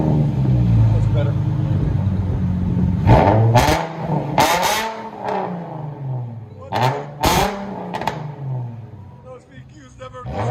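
A Nissan 350Z with the 3.5L VQ V6 and blast pipes idles loudly nearby, then gives several sharp revs that rise and fall, with raspy exhaust crackle between the blips.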